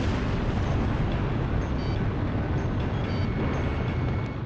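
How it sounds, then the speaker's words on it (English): Bombs exploding in a war video game, dropped scattershot across the area: a continuous loud, deep roaring rumble of blasts without pause, nearby and dominant, no talking. "They're just tossing bombs all over the place."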